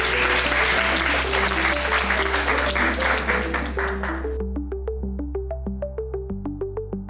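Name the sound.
audience applause for the lecturer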